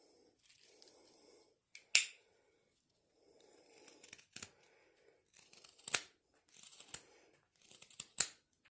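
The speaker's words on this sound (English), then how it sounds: "Now I'm just going to whittle the back of this part here to complete the head shape" A knife whittles the back of a carved wooden owl's head in short, crisp scraping strokes and sharp little snaps. The strokes come in irregular bursts, close up and fairly quiet, with pauses between cuts.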